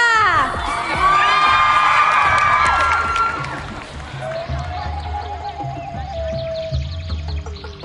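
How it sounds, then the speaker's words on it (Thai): A loud crowd screams and cheers, high shrieks and whoops rising together, then easing into a lower sustained roar of voices with a few trailing calls. "ขอเสียงกรี๊ดดังๆให้กับโชว์"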